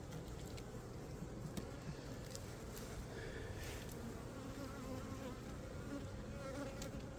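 Honeybees buzzing in a hive with a laying worker, a steady, dense hum filling the whole stretch at low level, with faint clicks and handling noises from working the comb.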